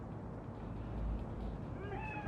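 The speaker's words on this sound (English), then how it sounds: "Chill, just a cat." A cat meows near the end as a few short rising cries over a steady low background hum.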